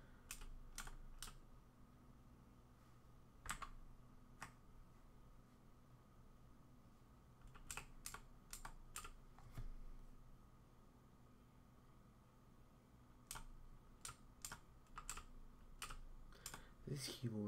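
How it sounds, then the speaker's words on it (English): Loud computer keyboard being typed on in scattered bursts of sharp clicks, quiet gaps between clusters, heard close against a low background hum. "This keyboard's actually pretty loud. I should probably use a quiet one."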